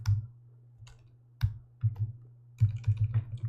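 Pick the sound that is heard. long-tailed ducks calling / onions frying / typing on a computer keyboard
typing on a computer keyboard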